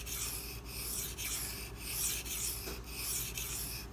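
A Case Southern Grind CG01 knife blade draws across a sharpening stone at a steep edge angle, giving a steady close raspy rubbing, with strokes repeating about every half second and no voices.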